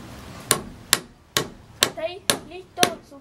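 Hammer blows drive nails into a wooden beehive box for stingless bees, six sharp knocks at an uneven pace, close and loud, with brief voices between the strikes.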